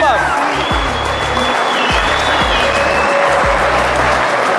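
A crowd at a wedding-celebration gathering claps in a brief burst of applause, dense and close, with a low thumping music beat and a voice underneath.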